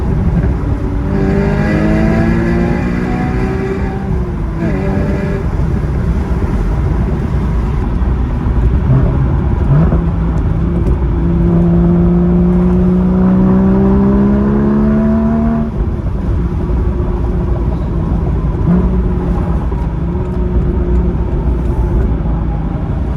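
A 2016 Porsche Boxster Spyder accelerates on a highway on a rainy day, its engine droning loud and close from inside the car, pitch climbing through gears with shifts and steady road roar underneath.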